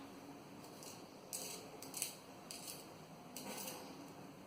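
A coloured or writing pencil being sharpened by hand, heard as faint, scratchy grinding bursts that repeat irregularly, about four short twists over a quiet background.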